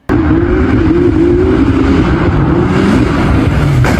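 Rallycross car engine revving hard and close through a gap jump attempt, a loud steady roar with rising and falling pitch, then a sharp impact-like burst near the end.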